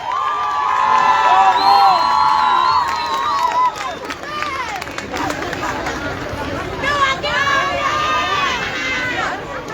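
A large crowd at a street rally marking 14 August cheers, shouts and whistles loudly and continuously, with dense babble and yelling voices throughout.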